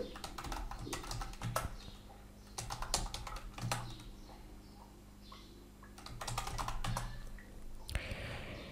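Words typed on a computer keyboard, bursts of quick close clicking separated by short pauses, with a faint bird chirping in the background and no talking.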